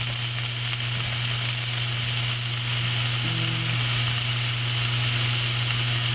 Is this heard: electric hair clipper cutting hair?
no